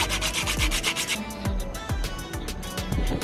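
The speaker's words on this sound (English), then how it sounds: "It's time for the nail technician to buff your nails to remove the harsh edges" A nail technician buffing polygel nail extensions, a continuous close scratchy rubbing with rapid repeated strokes and a few sharper scrapes, steady throughout without speech.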